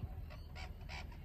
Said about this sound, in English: I have no idea what that bird is, but it's making a hell of a lot of noise.